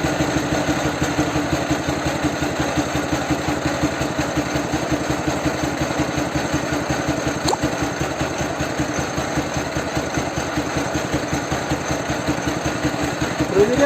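Ural or Dnepr motorcycle engine running steadily during carburetor adjustment, a fast even low thump close by that never builds revs, with a faint voice over it.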